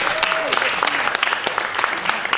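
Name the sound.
audience applause for a speaker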